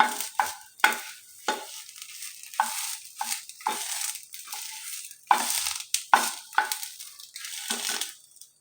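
A banana leaf heating on a hot roti griddle, giving quick crackling and rustling bursts with short sizzles, close and intermittent, with quiet gaps between.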